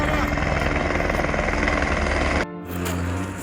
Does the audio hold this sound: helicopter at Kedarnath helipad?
yes